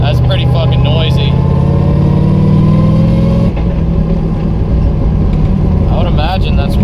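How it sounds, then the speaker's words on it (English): Cabin of a turbocharged, nitrous-fed LS-swapped Miata with solid transmission mounts, filled with loud, steady drivetrain drone and engine hum that drops in pitch partway through, with people talking over it. "I'm just hearing all that transmission noise coming out of that solid mount there."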